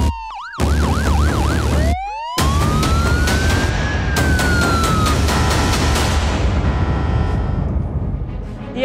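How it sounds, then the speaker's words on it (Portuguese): Loud police siren wailing up and down nearby, switching patterns partway through, followed by a rising electronic sweep, with no talking. "Solta a sirene, porque agora a gente tem notícias de polícia aqui no programa."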